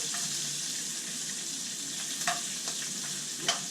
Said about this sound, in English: the bacon is cooking good